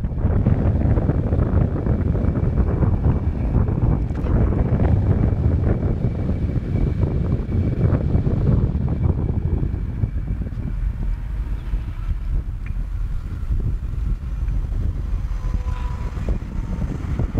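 Strong wind buffets the microphone of a moving e-bike against a 25 mph headwind on a road, a loud continuous rumbling roar that eases slightly toward the end.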